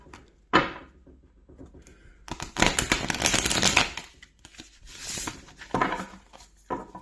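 A new, stiff Steampunk Tarot deck being shuffled, giving bursts of dry riffling card flutter and rubbing, a sharp snap near the start and two longer shuffles, close up with no talking.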